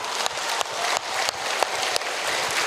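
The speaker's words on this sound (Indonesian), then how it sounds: "Tepuk tangan." An audience at a mosque gathering claps together in steady, fairly loud applause, with light rhythmic accents and no voices over it.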